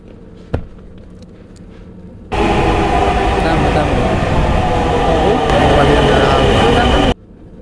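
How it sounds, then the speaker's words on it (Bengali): A train pulls into a station, opening with a sudden loud, steady rumble and rattle that holds for several seconds and then cuts off. A sharp knock and a faint background hum come before it. "আমাদের ট্রেন চলে আসছে"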